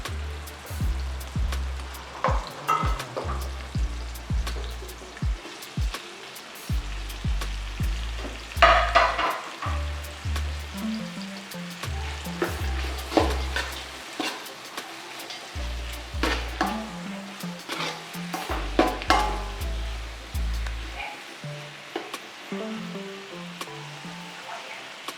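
Onions fry in a pan for Malappuram biriyani, a continuous close sizzle broken by repeated scraping stirs and clanks of a utensil against the pan, with no talk.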